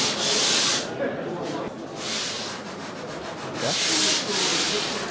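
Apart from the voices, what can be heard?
surfboard being shaped by sanding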